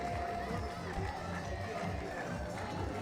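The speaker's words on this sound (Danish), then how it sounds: "Og klappende fans selvfølgelig også fra Ungarn" Hungarian fans cheering and clapping at a women's under-19 beach handball final, a continuous crowd roar with scattered claps under a commentator's voice.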